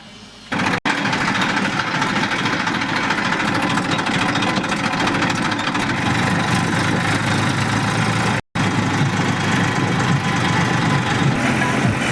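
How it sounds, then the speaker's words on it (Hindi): A tractor engine with a harrow attached runs at a steady, loud idle, droning continuously with a couple of brief dropouts. "हमने ट्रैक्टर पे हैरो जोड़ के खड़ी कर दी है"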